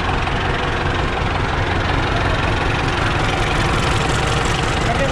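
A heavy Belarus 800 diesel tractor engine idles nearby with an even, throbbing chug that stays loud and constant for several seconds.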